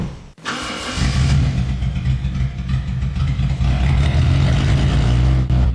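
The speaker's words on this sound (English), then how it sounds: "Now it's time to start the car." A car engine with no exhaust system cranks and fires, then settles into a loud, rough, throbbing run with a deep, unmuffled rumble that continues steadily.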